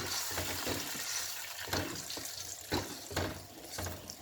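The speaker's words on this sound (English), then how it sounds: "Then I stir quickly." Nigerian vegetable soup with tomato, onion and habanero pepper is stirred quickly in a pot, a quiet wet sizzle broken by several scraping, sloshing strokes at uneven intervals.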